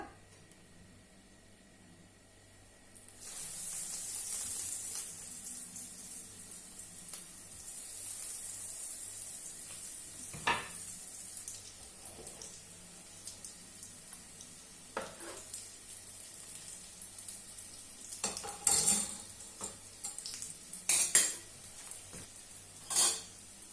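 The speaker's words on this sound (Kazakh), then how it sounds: "Енді міне жасаған котлетімізді майға қуырып аламыз." Breaded chicken Kiev cutlets frying in heated oil in a home kitchen, a steady, fairly quiet sizzle that rises once they go in, with a few sharper spatters and pops toward the end.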